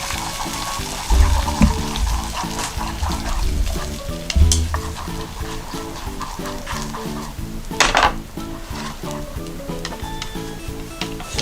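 Egg cooking in a hot pan with 5 g of butter and oil over low-to-medium heat, a steady sizzle with scraping and stirring of a utensil against the pan throughout.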